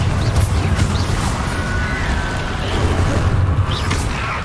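Repeated explosive blasts of the Confringo spell in Hogwarts Legacy, heavy booming impacts with crackling debris, loud and continuous over a few seconds.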